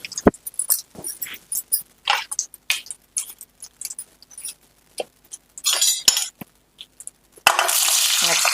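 Dried red chillies, cumin and asafoetida tempering in hot oil for a Telugu home-style chukka kura with drumsticks, heard as scattered crackles and pops with spoon clinks, then a steady loud sizzle at the end.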